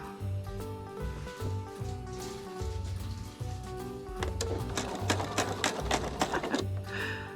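A sewing machine sews binding onto a quilt in a run of repeated mechanical bursts. Its motor hum and needle clatter are close and fairly loud and keep a steady pulsing rhythm.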